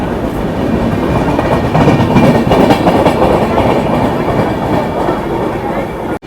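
Sealdah Humsafar Express departing Dalkhola railway station, a loud steady rumble of wheels on rails with rhythmic clickety-clack heard from aboard, continuous throughout and cutting off abruptly at the end.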